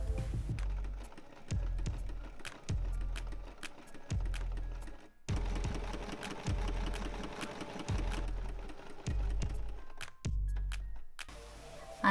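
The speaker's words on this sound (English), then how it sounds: "this is going to be sewn right sides together and then folded back and with a top stitch to make it a bit stronger" A sewing machine top stitches jumpsuit pockets in close, steady whirring bursts, about a second each, separated by short pauses, with no talking.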